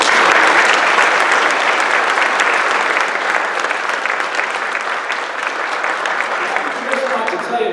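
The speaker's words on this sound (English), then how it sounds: "So how about a big round of applause for Jeff?" Audience applause at a guide dog school graduation ceremony, a dense, steady roar of clapping from a large crowd that holds strong before easing slightly toward the end.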